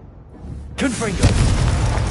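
A Confringo fire spell explodes in Hogwarts Legacy, a sudden loud boom after a brief near-silence, followed by a rumbling, crackling burst that lingers with a voice speaking over it.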